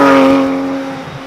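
A 2015 Porsche 991 911 GT3 with its high-powered rear-mounted flat-six cruises at low speed on back roads near Auckland, giving a steady close engine drone with a tonal hum that fades slightly over a brief moment.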